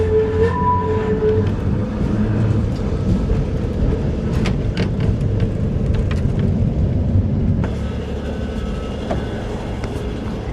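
A vintage tram rumbling through Lisbon on the way to a tram museum, with a steady low rolling roar, wheel clatter and occasional sharp metallic clicks and squeals, heard from inside the car.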